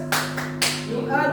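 A group clapping game at school: a few sharp, loud claps land close together in a short burst over a steady background hum.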